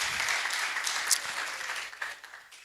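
An audience at a handball league press and presentation event claps together, a broad sustained patter of hands that thins slightly toward the end.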